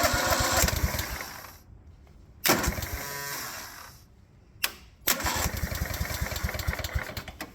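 Cold-weather attempts to start a vehicle engine in snowy conditions: several bursts of rough cranking and revving separated by short silent gaps, loud and close, with no talk.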